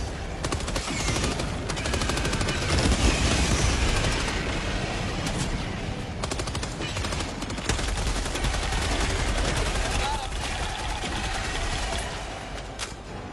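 Sustained automatic gunfire in the shooter game Helldivers 2, loud dense rattling bursts filling the whole stretch with little pause, heavy booms mixed in, and no talking.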